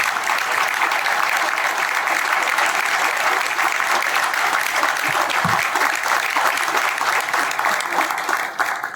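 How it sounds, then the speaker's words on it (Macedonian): A public health forum audience gives sustained, steady applause in a hall. Many hands clap densely at an even loudness throughout, with a faint voice or two briefly audible underneath. "ајде да го поздравиме со еден аплауз"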